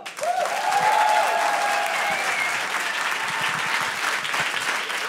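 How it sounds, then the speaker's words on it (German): A crowd at a Berlin stand-up comedy show claps loudly and steadily for several seconds, with a brief whoop at the start and faint cheering under the applause. "Gib mir nochmal einen dicken Applaus"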